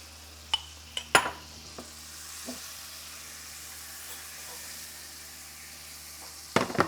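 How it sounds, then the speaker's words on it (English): Butter and olive oil sizzle steadily in a hot pan, a continuous crackling hiss with a few sharp clinks of utensils at the start and end, no talking. "Put it in the pan with a sizzle"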